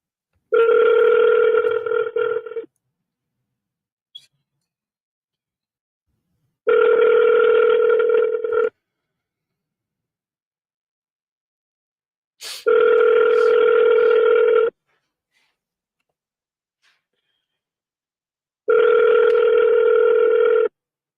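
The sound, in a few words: telephone call ringing while calling back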